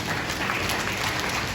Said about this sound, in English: Can you be given a round of applause, please?